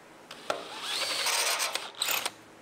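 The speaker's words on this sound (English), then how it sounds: "drill the hole" A drill boring a hole into the metal exhaust of a C5 Corvette, a short grinding, whirring burst lasting about two seconds, close and fairly quiet, with a few sharp clicks at the edges.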